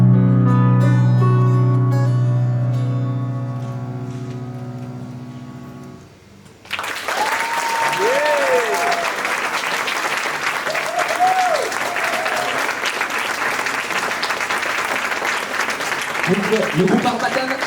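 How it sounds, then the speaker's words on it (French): Music from a student band at a university talent contest fades out, then the audience bursts into loud, sustained applause mixed with whistles and cheers. "Encore une fois, un tonnerre d'applaudissements"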